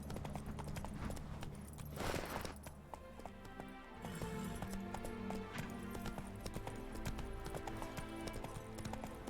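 Horse Roach's hooves clip-clop in a steady galloping rhythm in The Witcher 3, up close amid game music and ambient effects, with a brief louder burst partway through.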